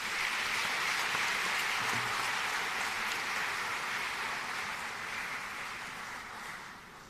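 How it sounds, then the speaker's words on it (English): An auditorium audience applauds to welcome a speaker at a university golden jubilee celebration, a broad sustained clapping that fades slightly toward the end. "let's welcome the living chronicle, Sri Sanjeev Sanyal ji, with a huge round of applause"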